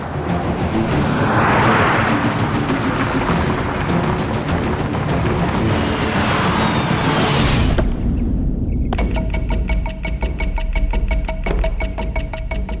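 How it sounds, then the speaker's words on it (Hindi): A car speeding along during a chase, heard as a loud, continuous roaring rush of engine and road noise for about eight seconds before cutting abruptly to a steadier, tonal hum with faint repeated ticks. "दुष्यंत जरा तेज चलो।"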